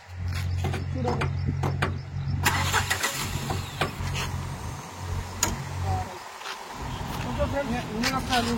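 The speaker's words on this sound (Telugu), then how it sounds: "ఒకసారి ఇంజిన్ నాయిస్ చూసుకోండి. సౌండ్ కూడా ఎంత స్మూత్ వస్తుంది చూడండి." A 2018 Tata Tiago hatchback, a used car, starts and settles into a smooth, steady idle, with a low engine hum and a few mechanical clicks while someone talks over it.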